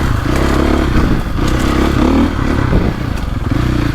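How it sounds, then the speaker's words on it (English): A 450cc dirt bike, either a 2025 Honda CRF450R or a 2024.5 KTM 450SXF Factory Edition, rides a tight woods trail with a loud steady engine drone and small throttle rises, plus rattles and scrapes from the terrain. "it's amazing just how rideable these big old 450s are"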